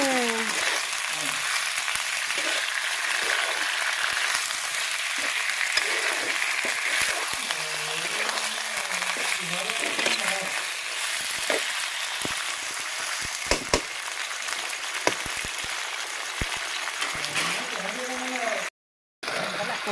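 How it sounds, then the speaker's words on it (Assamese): Chicken meat frying in a pan gives a steady, close hiss and sizzle with scattered pops and crackles, while a voice talks over it at times. "মাংস ভাজা হৈ আছে"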